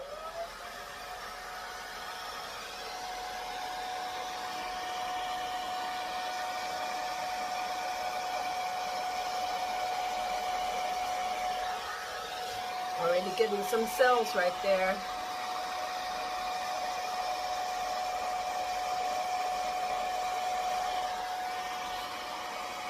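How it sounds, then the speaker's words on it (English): Blow dryer running steadily throughout at close range, a constant whirring hum used on a Dutch-pour acrylic paint piece, with a brief rattling flutter midway and a person talking softly over it. "Now I'm going to get my blow dryer"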